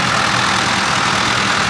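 Ford tractors with cabs, modern classics at a vintage and steam rally, drive in with a loud, steady engine roar and a broad rumbling drone, close by and without talk.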